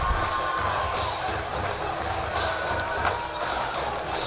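A crowd fills the stands at a high school football game between Cleveland and College Park, giving a steady roar of cheering and chatter throughout.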